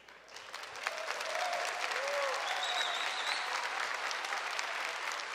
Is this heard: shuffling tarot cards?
no